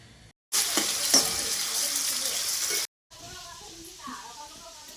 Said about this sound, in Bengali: তারপরে এখন এই যে ফুলকপিগুলো ভেজে নেব।